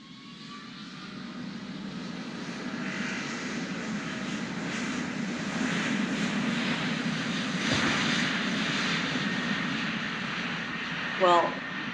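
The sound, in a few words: airplane engines during a flight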